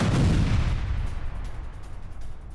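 Ukrainian MLRS rocket artillery firing in a combat setting, a loud booming roar that peaks at the start and then rumbles on as a sustained, rolling low blast with no speech.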